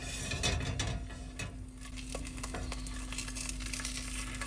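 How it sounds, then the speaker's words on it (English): An egg frying in a pan on an RV stove, a low sizzle with faint scraping and tapping as a spatula works under it and flips it, continuous and quiet. "Cook this up real quick. I'm gonna give her a little flip."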